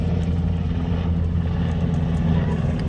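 A low, throbbing aircraft drone hangs steadily overhead, a continuous rotor-like rumble with no other sounds.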